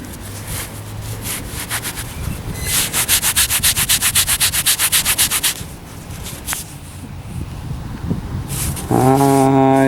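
A crusty, freshly dug wheat penny from an old street tear-out is rubbed between the fingers, giving a rapid, close, rhythmic scraping in repeated bursts, with no voice over it.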